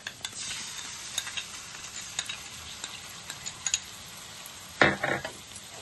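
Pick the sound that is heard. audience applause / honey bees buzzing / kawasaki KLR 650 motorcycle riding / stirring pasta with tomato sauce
stirring pasta with tomato sauce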